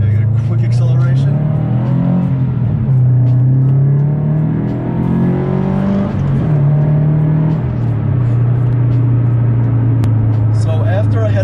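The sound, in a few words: Subaru BRZ car accelerating quickly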